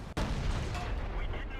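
A tank cannon shot in World of Tanks, a single heavy boom that hits at once and rolls into a long, low rumble, fairly loud, with a voice faintly present underneath.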